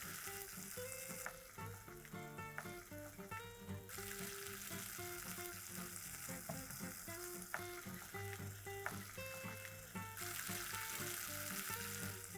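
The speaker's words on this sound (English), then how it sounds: "Allow all of this to now start roll boiling, and then we just check for salt." A pan of aloo methi with kasuri methi bubbles and sizzles as it comes to a rolling boil, a steady dense crackle and spatter with soft intermittent pops, continuous and close.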